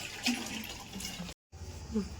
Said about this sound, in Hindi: पानी भरने लगता।